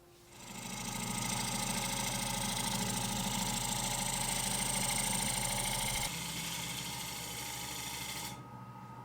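An old wood lathe turns a wooden bowl while a scraper cleans it to final shape. A continuous motor hum and rough scraping run for several seconds, then the tone shifts and the machine winds down to quiet.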